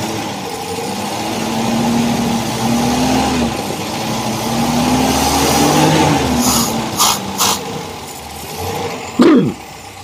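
A Toyota Corolla DX carburetor engine being worked on rises slowly in pitch from a steady idle as the throttle is opened bit by bit, running smoothly up close, with a few sharp clicks and a brief knock near the end.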